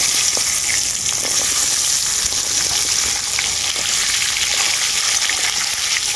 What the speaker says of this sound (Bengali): এখন তেলের মধ্যে দিয়ে দেবো তেজপাতা আর শুকনো লঙ্কা। এরপর কেটে রাখা আমড়াগুলোও দিয়ে দেবো।